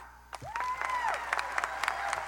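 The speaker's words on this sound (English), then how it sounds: "Please clap with me if you agree with me, okay?" An audience at a Republican political speech claps in agreement, a burst of scattered applause rising over a moment, preceded by a gliding tone like a feedback squeal or whistle.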